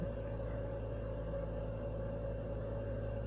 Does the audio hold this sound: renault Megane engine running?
yes